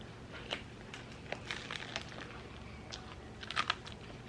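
Close, crisp crunching as someone chews a snack of chips, nuts and bread, with irregular bites and crackles spaced through the moment and a cluster of sharper crunches near the end, no talking.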